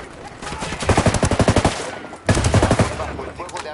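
Gunfire in the video game Ghost Recon Wildlands: two loud, rapid automatic bursts of shots, the first longer and the second after a brief gap, with no talking.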